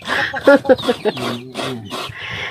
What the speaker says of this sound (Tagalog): Grabe itong mga manok ni Banong.